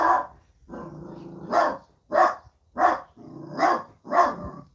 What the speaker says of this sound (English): What are you barking at, Pips?